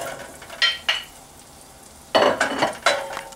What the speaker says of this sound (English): Wait until hot, then put garlic and onion. Now, you put the garlic.